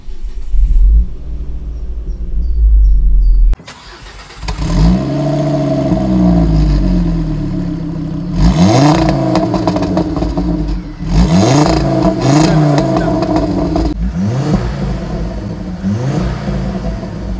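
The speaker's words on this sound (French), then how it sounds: "Quand vous démarrez la voiture, ça se passe comme ça." A 320-horsepower Ford Focus RS Mk2 engine starts with a loud crank and catch, then idles with a deep rumble and is blipped through several sharp revs that rise and fall close by.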